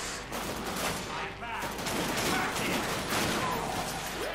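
Rapid gunfire from a first-person shooter video game, The Darkness 2, bursts of shots overlapping continuously and fairly loud with a busy mix of game effects behind.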